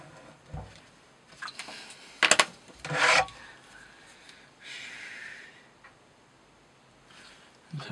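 A utility knife with an Elmax steel blade sharpened to a 36° edge is tested by cutting material, producing a few short, rasping cutting strokes spaced apart against a quiet background.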